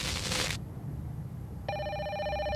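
A telephone in a horror video game begins ringing with a bright, trilling electronic ring over a low, steady ambient rumble, following a short hiss burst at the start.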